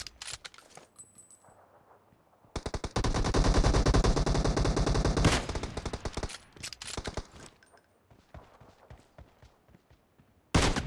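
Rapid automatic gunfire rings out in a PUBG team deathmatch, with sparse single shots early, then a long, loud, dense burst of rapid fire, followed by scattered shots and a final sharp report.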